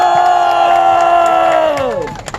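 Crowd at an outdoor candlelight protest rally on a public square raising a loud, sustained shout of cheering that falls off near the end, with scattered claps following.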